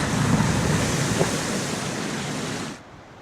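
A car driving through a water splash at a ford, a broad rushing wash of spray that fades away until it cuts off near the end.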